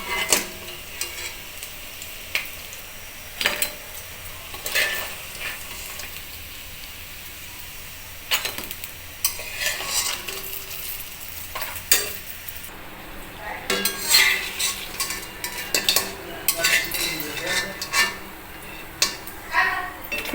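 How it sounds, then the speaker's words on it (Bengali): Fried singara pitha are lifted out of hot oil. Utensils clink and scrape against a pan in irregular bursts over a continuous soft sizzle. "এখন আমি পিঠাগুলো উঠিয়ে নিব।"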